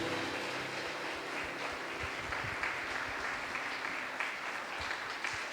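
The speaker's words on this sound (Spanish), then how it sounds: "Denle un aplauso a Dios" Steady congregational applause during a Sunday church service, a dense, even wash of clapping that holds at the same level throughout with no talk over it.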